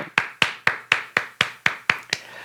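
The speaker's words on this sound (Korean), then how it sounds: "우리 하나님께 감사의 박수 돌리겠습니다." Congregation at a Korean church Friday worship service clapping in a steady rhythm, about nine sharp claps at even intervals, close and clear with no talk over them.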